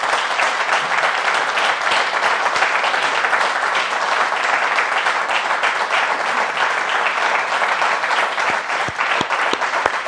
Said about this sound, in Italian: al quale voglio dedicare questo applauso del nostro studio